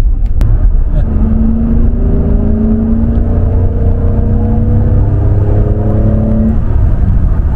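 A naturally aspirated Honda NSX engine revs up steadily and holds a rising whine for several seconds before dropping off, loud and close.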